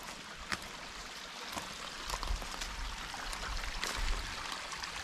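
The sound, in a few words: stream water flowing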